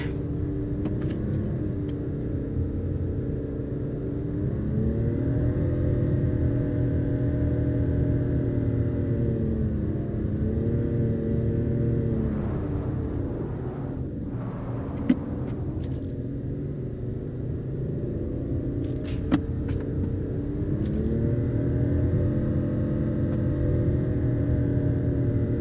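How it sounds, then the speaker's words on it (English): Steady car engine drone from driving in Final Fantasy XV, a continuous low rumble with gentle rises and falls in pitch as the vehicle cruises, loud and alone with no voices. "I know the car noise is still gonna be there"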